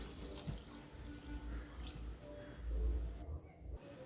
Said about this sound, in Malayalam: ഇനി ഒരു 3/4 ഗ്ലാസ് വെള്ളം ഒഴിച്ചു കൊടുക്കാം.